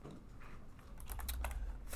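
Keys clatter on a computer keyboard while C# loop code is typed, a quiet run of quick clicks that grows busier toward the end.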